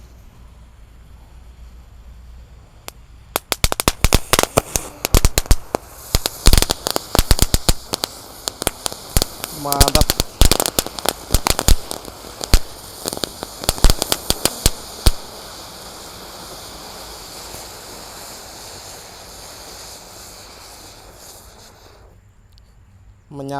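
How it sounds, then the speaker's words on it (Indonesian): Two packs of spinning three-colour firecrackers go off outdoors during a Ramadan celebration, a dense, loud volley of rapid cracks and pops lasting about twelve seconds before fading to quiet, with a voice briefly heard. "ini ada 2 pak mercon gangsing super 3 warna"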